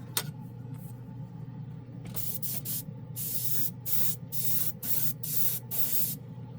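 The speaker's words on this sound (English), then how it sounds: "we're going to spray some clear on top" A paint spray gun lays down a clear green automotive coat, with repeated bursts of loud hissing spray separated by short pauses over a low compressor hum. No one speaks.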